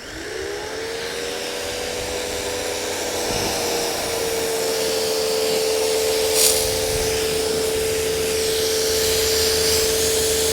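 A pressure washer spraying soap onto a car runs as a loud, steady hissing roar with a sustained motor tone that holds throughout.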